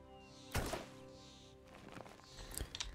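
A shot misses in the fantasy game Arcania – A Gothic Tale in a forest by a silver lake. It lands as a sharp, close thunk with a brief whoosh, followed by a second, softer impact about two seconds later.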